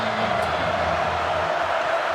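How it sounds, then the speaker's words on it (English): Dense stadium crowd roar at a Missouri home football game against Florida in 2015, a steady loud wash of noise with no breaks. "This crowd noise helps this pass rush"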